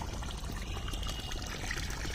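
Water pours out in a steady, continuous rushing stream, close and fairly loud, with no talking.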